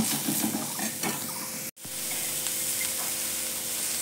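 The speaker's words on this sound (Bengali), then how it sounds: "এবার দেখো সোনার মাংসগুলো আমি দিয়ে দিলাম।" Small pieces of young goat meat and liver dropped into a pan with a spoonful of hot oil, ginger, garlic and tomato, giving a loud, steady sizzle that breaks off for an instant midway and resumes, close up with no talking.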